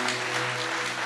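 A brief burst of applause rises from a church congregation mid-sermon, a dense patter of hands over a low steady hum.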